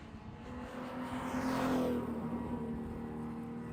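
A race car in a 7-hour endurance race at Sebring passes under the Corvette bridge at low revs, its grunty engine drone swelling and sweeping past in a brief rush, then fading to a steady hum.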